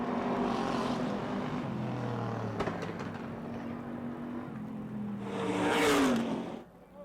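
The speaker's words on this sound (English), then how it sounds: "Stokes getting sideways on the front straight, still takes the checkered flag over Mike Lemley." Race cars roaring around the Motordrome Speedway oval, a continuous loud engine drone with several cars passing close, the noise swelling sharply near the end as a car roars by, then dropping away.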